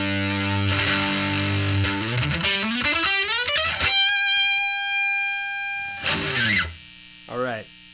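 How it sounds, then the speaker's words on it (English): Electric guitar played through a Falcondrive distortion pedal with extra gain blended in, heavily distorted sustained notes and sliding chords, loud and close, ending in short bursts after a pause. "Blend in more distortion, more gain."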